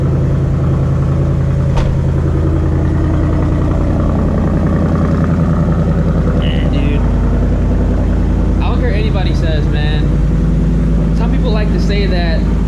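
A 2024 Ford Mustang GT with a Gen 4 Coyote V8 and a 6-speed manual sends out a loud, steady, low engine growl from inside the cabin, while someone talks over it.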